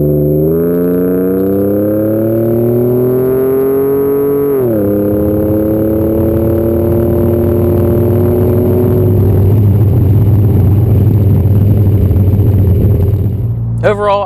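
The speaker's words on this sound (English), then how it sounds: "There aren't many twin turbo V6s out there." Twin-turbo V6 EcoBoost Ford F-150 with MBRP 4-inch single side exit cat-back exhaust, loud accelerating engine climbing in pitch, a shift, then a deeper rumbling drone that roughens near the end, close by and without voices.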